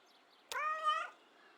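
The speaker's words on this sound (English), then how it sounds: "Affirmative meow." A cat from the video game Kentucky Route Zero gives a single short affirmative meow, clear and tonal, lasting about half a second with nothing else around it.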